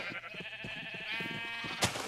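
Several sheep in a Minecraft-style video game let out quick, wavering bleats one after another, fairly close, with a brief louder click near the end.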